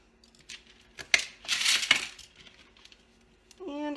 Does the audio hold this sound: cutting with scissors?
yes